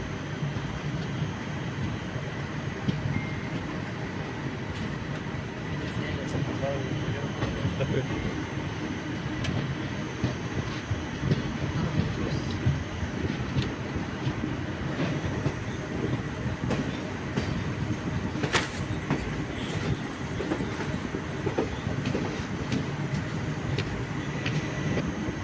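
Guruvayur Intercity Express passenger train heard from inside a coach near Ernakulam Junction, a continuous rumble with rhythmic wheel clatter, a few metallic squeaks and people talking in the background.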